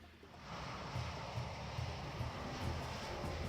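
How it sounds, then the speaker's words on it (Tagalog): Airplane engine drone from the X-Plane 12 flight simulator, a Toliss A321 airliner, rising into a steady, dense, low roar after a brief quieter opening. "Okay, so ito yung aeroplano ng Brico."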